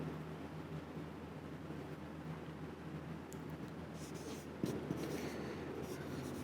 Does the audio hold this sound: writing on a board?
yes